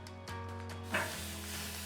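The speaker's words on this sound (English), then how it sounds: "Can you hear that steak sear?" A salted steak sears directly over the heat on a hot two-zone grill, giving a faint, steady sizzling hiss with a brief swell partway through and no talk.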